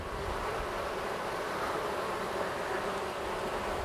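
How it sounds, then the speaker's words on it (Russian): Buckfast honey bees hum in a steady, dense buzz close by as they cluster around a queen, a continuous drone with no voices. "пчелы беспокойные"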